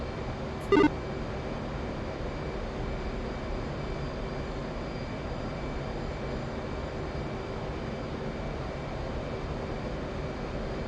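A steady, distant aircraft engine drone from the DCS combat flight simulator hums continuously at low level, with one brief beep near the start.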